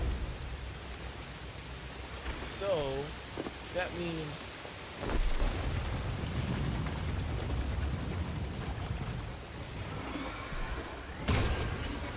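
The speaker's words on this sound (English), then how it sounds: "the rain is blocking what I need to do" Steady rain hiss in the Star Wars Jedi: Fallen Order video game, a constant wash under a man's speech, with a few sharp game sounds breaking in.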